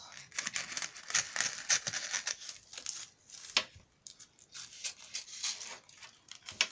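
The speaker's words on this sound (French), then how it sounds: "Vous coupez sur le bord." Tissue paper is cut along its edge, a series of soft, crisp crinkling and snipping bursts in an uneven rhythm, close and fairly quiet, with no talking.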